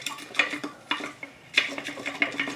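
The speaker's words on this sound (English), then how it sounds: "Now I'm going to mix this all up." Carrot and cauliflower pieces being mixed with spices and celery seed in a bowl for lacto-fermentation, with close, moderately quiet crunchy rustling and clattering strokes in uneven bursts.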